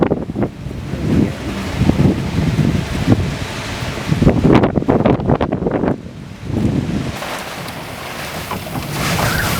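Wind gusting around an anchored sailboat on open water, a steady rushing roar with buffeting bursts on the microphone and faint lapping waves underneath, continuous and fairly loud throughout.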